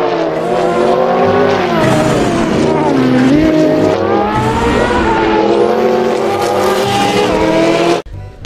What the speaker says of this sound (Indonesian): Ini mobil balap sport,